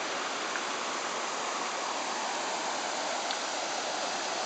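Water pouring steadily through an old canal guard lock, a loud, constant broadband rush with no breaks and no voices.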